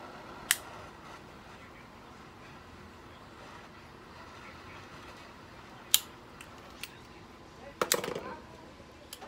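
A cigar, an Aging Room Quattro Maestro, gets a V-cut from a V-cutter. Sharp, close clicks and snips sound at scattered moments against a quiet room hum, with a brief cluster near the end.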